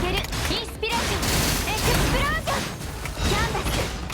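Explosions in the video game Punishing Gray Raven burst in rapid, crackling volleys like a fusillade, with impacts and high flashing effects, while a voice talks over the action.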